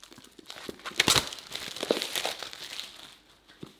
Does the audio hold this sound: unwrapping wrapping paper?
yes